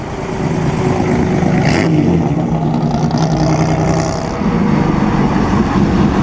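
A 1940 BMW race car at the 2013 Mille Miglia roars by close up, its engine loud and sustained, with a rising rev as it passes.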